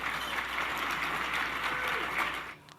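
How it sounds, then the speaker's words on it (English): Sustained audience clapping at a political event for Canada's prime minister, a fairly even, moderate wash of many hands that fades out abruptly near the end. "Listen to that slow clap."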